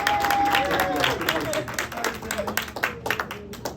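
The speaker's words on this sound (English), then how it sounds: "Give them a big round of applause for that." An audience claps and cheers in a burst that thins into scattered claps, mixed with close talk and a brief whistle-like tone early on.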